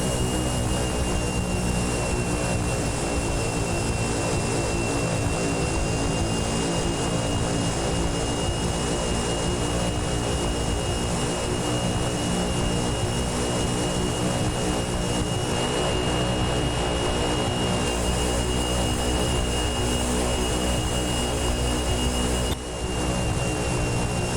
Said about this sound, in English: We're going to take off with no flaps.